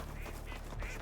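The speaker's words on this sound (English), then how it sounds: "Oh, it's a duck." Duck quacking in the open world of the video game Horizon Forbidden West, a short nasal call sitting over a steady bed of game ambience and music.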